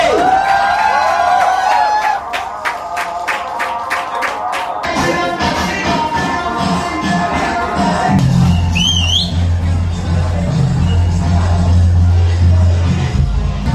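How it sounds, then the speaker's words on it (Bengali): Audience at a company bike celebration event claps in a quick rhythmic burst, then cheering, whistles and crowd noise swell, with loud music and a low thumping beat underneath. "আমরা সকলে চলে একটা করতালি।"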